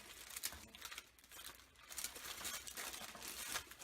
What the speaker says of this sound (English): sorry if you hear all that rustling